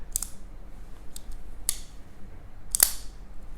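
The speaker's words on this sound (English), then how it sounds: "all the different mechanisms clicking into position." Several sharp mechanical clicks, spaced unevenly, with the last one loudest, as a CRKT folding knife snaps open and locks into place, close by and quiet.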